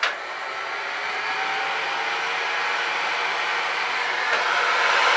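A hot-air rework station blows a steady, loud broadband hiss while heating a laptop chip to melt its solder, holding constant for several seconds with a slight swell near the end.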